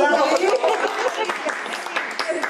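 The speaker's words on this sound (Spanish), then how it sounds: "Yo la aplaudo." Steady applause from a crowd, dense clapping throughout with faint chatter mixed in.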